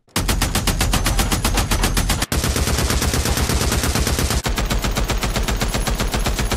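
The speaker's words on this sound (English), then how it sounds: "All together now, one shot. All together now with automatic fire." Special weapon in the video game Days Gone firing on full automatic, a dense, steady stream of loud rapid shots in long bursts with only brief breaks, heard alone without talk.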